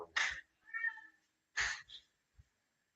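A cat meows close by indoors, two clear meows with a softer chirping sound between them, otherwise quiet.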